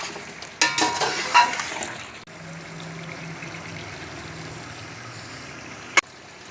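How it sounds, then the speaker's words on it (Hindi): Beef pieces frying and being stirred with spices in a pot for Eid yakhni pulao, a steady close sizzle with a few louder scraping stirs early on and a brief clatter near the end. "अब हम इसके अंदर बीफ डाल देंगे। इनको भी अच्छे तरीके से भुनेंगे कि सारे मसाले इसके अंदर जज़ब हो जाएं।"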